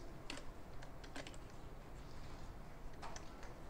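Typing on a computer keyboard while writing HTML and CSS code, a quiet patter of key taps in short irregular bursts with pauses between them, heard alone with no talk.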